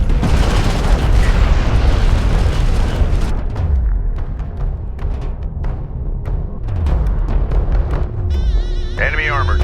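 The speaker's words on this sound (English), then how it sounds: "One of our turrets is taking fire." A defensive turret in the real-time strategy game Homeworld: Deserts of Kharak takes fire, with dense volleys of gunshots and heavy booms that thin into scattered bursts, under radio-style voice callouts.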